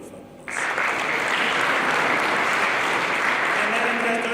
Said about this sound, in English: Just give yourselves a big round of applause.